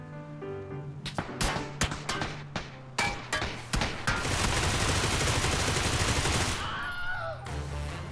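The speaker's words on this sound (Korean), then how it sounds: "여기 총소리 나는데" Rapid bursts of gunfire crack in quick succession, then a sustained dense volley with metallic clanging, all loud and close, with no talking, in PUBG (PlayerUnknown's Battlegrounds).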